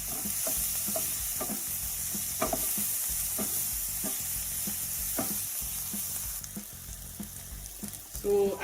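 Spring onions, round bulb onions and green pepper sizzle and fry steadily in a pan for vegetable rice, with occasional stirring scrapes and clicks throughout and a louder clatter near the end.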